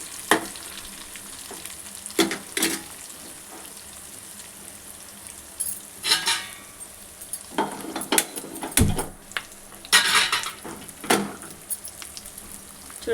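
Brinjal pachadi ingredients with garlic frying in a pan, a continuous close crackle of hot oil punctuated by several sharp bursts and spoon scrapes as the mix is stirred.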